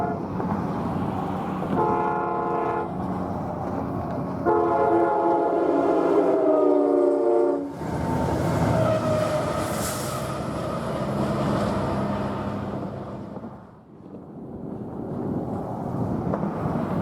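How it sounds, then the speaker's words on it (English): A northbound Rail Runner Express commuter train passes in Santa Fe County, New Mexico, sounding its loud two-tone horn in long blasts, with rumbling wheels and engine noise swelling nearby before fading. "First to pass is northbound Railrunner Express train number 104 speeding away"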